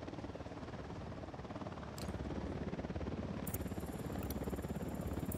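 A helicopter drawing nearer in the Ghost Recon Wildlands game, its steady rotor thrum swelling slightly louder partway through and continuing alone with a faint high whine.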